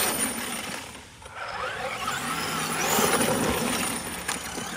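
A Traxxas Kraton 8s RC truck fitted with a Reefs RC Beast 1000 servo and no servo saver drives over rough ground, its whining motor and rattling drivetrain running continuously at close range with surges and a dip midway.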